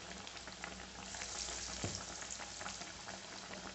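Vada, fritters made from two kinds of lentils, frying in hot oil, a steady dense sizzle and crackle that stays even throughout, close and alone with no voices.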